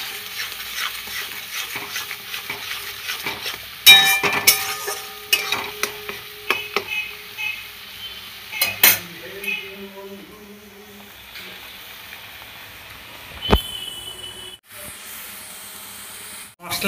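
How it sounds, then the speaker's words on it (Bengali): Spice paste sizzles and hisses in a pan as it is stirred and scraped with intermittent clatters, fairly faint and close, with occasional talking. "মশলা কষানো আমার হয়ে গিয়েছে।"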